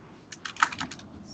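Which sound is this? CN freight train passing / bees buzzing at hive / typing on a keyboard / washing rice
typing on a keyboard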